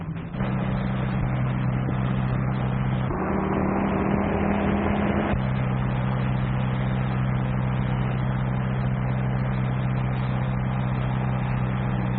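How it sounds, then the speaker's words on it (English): A car in a 1940s-style crime drama approaches on a road with a steady, loud engine drone, its tone shifting midway as it draws nearer, with no talk over it. "There's a Fed's car coming back."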